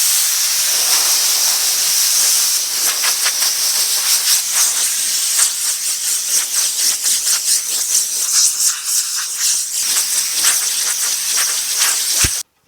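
Compressed air hisses loudly and almost continuously as it blows dust off the primed hood of a 1950 Chevy truck before the primer coat is sprayed. The hiss comes in rapid pulsing bursts and cuts off sharply at the end.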